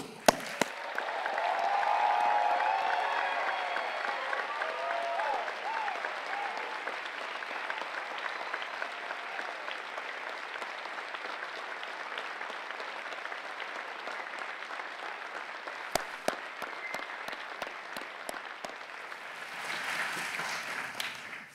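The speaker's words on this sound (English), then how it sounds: "raise a rousing round of applause, all of us please, for all of the UEA staff" A graduation audience at a UEA Master of Pharmacy ceremony applauds the staff, a long sustained roar of clapping from a large indoor crowd that thins toward the end, with a brief voice near the close.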